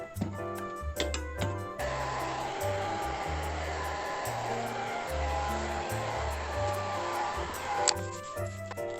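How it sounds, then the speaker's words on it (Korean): A hair dryer blows steadily and loudly throughout, heating a lifted adhesive film to press it flat in a kitchen, a continuous rushing hum with a few faint clicks and knocks around it. "제가 바로 드라이기 작업하겠습니다"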